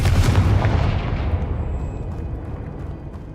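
A Confringo fire spell blast in Hogwarts Legacy: one loud, close booming burst that opens at full force and then rolls off into a fading, rumbling decay over a few seconds.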